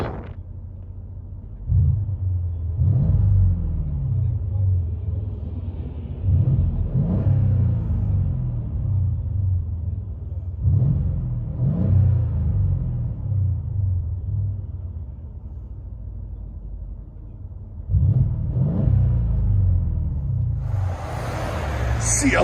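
A 2014 Mercedes CLS 550 V8 with a rear muffler delete revs repeatedly with a deep, throaty exhaust rumble, four rising pulls separated by idle, heard from inside the car.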